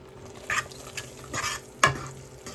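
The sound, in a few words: stirring butter and sausage sauce sizzling in a pan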